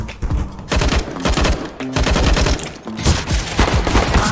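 Video game gunfire, rapid bursts of automatic shots in quick loud volleys with short gaps between them, close and dominant with no talk.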